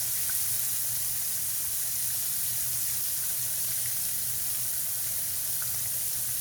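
Turkey cutlets frying in a pan give off a steady, soft sizzle that holds at an even low level throughout, with no talking over it.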